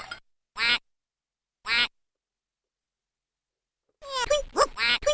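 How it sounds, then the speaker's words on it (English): Recorded duck quacks from a 2002 Playskool Magic Screen learning desk toy, two short bursts separated by a pause, followed by the toy's recorded voice speaking. "Ducks like to swim."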